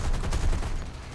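Aircraft cannon fire in the War Thunder video game, a short loud burst of rapid heavy thumps running through about a second without talk.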